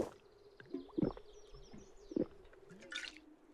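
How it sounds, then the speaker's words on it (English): Drinking water in the pixel-art survival shooter Zero Sievert: a few soft wet gulps and liquid squishes, close and fairly quiet over a steady low game ambience, with a brief higher rustle near the end. "And I'll take a drink of water."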